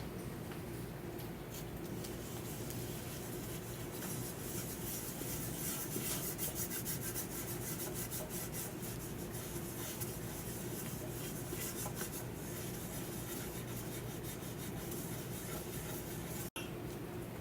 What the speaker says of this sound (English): And you're just going to rub gentle circular motions.